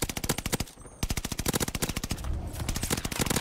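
Rapid automatic fire from the Automaton gun in Call of Duty Vanguard, loud close bursts of evenly spaced shots, broken by two brief pauses, with no voices over it.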